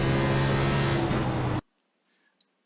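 A race car drones along on an out lap at Phoenix in the iRacing simulator, its steady engine tone close and loud, then the sound cuts off sharply into silence with a faint click or two.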